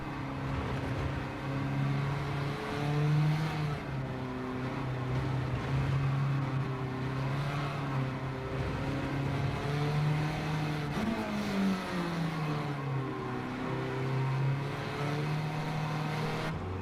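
Racing car engine in a sim racing game, a steady loud drone that shifts pitch up and down with throttle and gear changes through the lap, with no talk.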